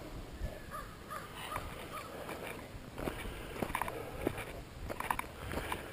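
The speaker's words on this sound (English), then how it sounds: "and there's a crow up in the tree" A crow in a tree caws several times from some distance across a cold late-winter outdoor scene, the calls rising briefly over a soft, steady background hiss.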